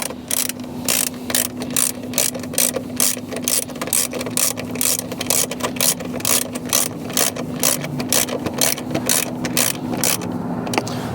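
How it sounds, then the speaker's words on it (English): A ratchet wrench clicks in rapid bursts while snugging 10mm bolts on a car trim panel, with quick repeated strokes and brief pauses between them, close and loud. "You can tighten them down with your fingers and then use the wrench to snug them up."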